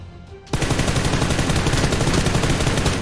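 Sustained rapid automatic gunfire erupts after a brief quiet moment and continues loud and dense throughout, from a vehicle fight at a bridge in a Thai-commentated online shooter game, with no one speaking over it.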